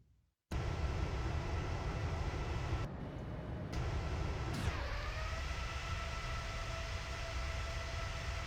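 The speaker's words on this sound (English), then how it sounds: "sounds like a Gen X engine" A simulated GEnx jet engine on a Boeing 787 in a flight simulator: a steady, loud roar with a high whine, shifting in tone partway through and settling into a constant drone.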